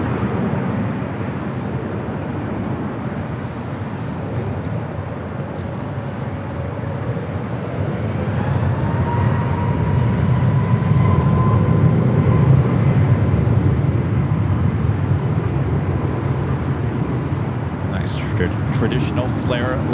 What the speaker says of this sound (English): Flight 1889, a 6-year-old 737 MAX 8 heading to